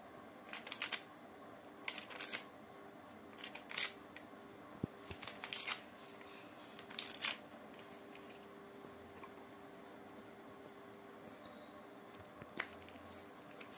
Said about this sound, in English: Use only two fingers to tear the paper.